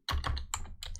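Several quick bursts of keystrokes on a computer keyboard while a word is typed into the Windows 11 Start search, close and fairly loud with short pauses between clusters, no talking.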